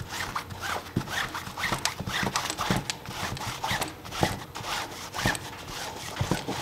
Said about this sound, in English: I'm just gonna start doing the same thing. Wax on, and then wax off.